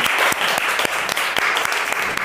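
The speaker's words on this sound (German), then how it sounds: "Dann bitte ich mal um Applaus" Studio audience applause at a German television show, a dense steady clatter of many hands clapping throughout, with no talk over it.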